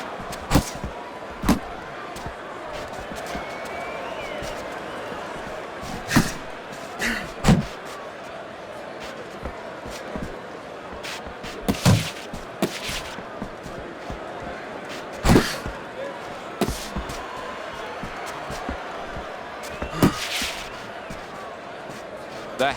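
Boxing punches landing in Fight Night Champion during a simulated Golovkin versus Lara bout, heard as sharp intermittent thuds over steady crowd noise, with a commentator talking throughout.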